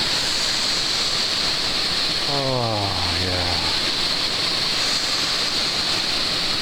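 Steady broadband roar of water rushing past at Cascade Falls in Maine, loud and continuous throughout, with a brief exclamation from a person partway through.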